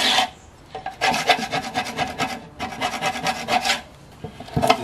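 A scraper rasps old paint off a birdbath in repeated rough back-and-forth strokes, loud and close, with short pauses between bursts of scraping.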